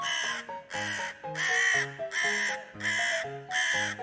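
A crow gives six loud, harsh caws at a steady, evenly spaced rhythm, close and clear with nothing else heard.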